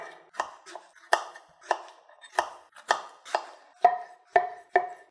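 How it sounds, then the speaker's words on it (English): A knife chops fresh fruit such as bananas and strawberries on a cutting board, about a dozen crisp, evenly spaced strikes, close and clear with no talking. "But we'll go ahead and chop up some fresh fruit."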